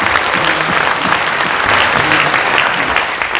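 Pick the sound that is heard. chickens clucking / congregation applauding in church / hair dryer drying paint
congregation applauding in church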